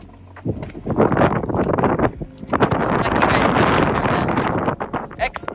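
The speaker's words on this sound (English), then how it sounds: "It's very windy and it's cold." Strong gusty wind on a mountain, Cerro San Luis, buffets the microphone in loud, rumbling bursts, with a person talking briefly over it.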